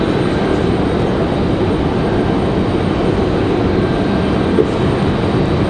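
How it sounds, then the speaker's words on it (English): A CRJ regional jet landing at Raleigh-Durham International Airport, heard as a steady, broad roar of jet engine noise that stays loud and even throughout, with no talking. "That CRJ is going to touch down here in just a minute."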